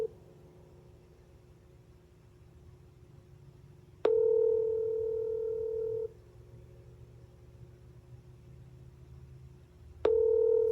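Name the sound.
phone ringing tone on call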